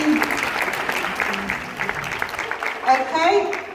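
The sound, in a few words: applause at school assembly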